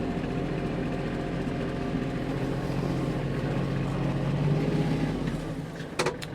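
A Kubota KL27 tractor's heavy engine rumbles steadily as it drives and slowly turns on the spot, droning throughout with a brief clatter near the end.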